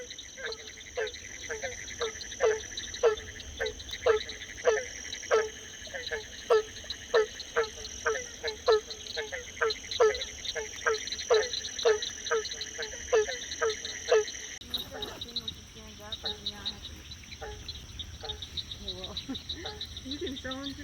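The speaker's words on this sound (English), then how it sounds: "You hear all them frogs" Many frogs croak in a steady, repeating chorus at a Florida campsite on a night of pouring rain, the calls pulsing rhythmically over constant insect trilling and rain hiss, then breaking into a denser, more scattered chorus near the end.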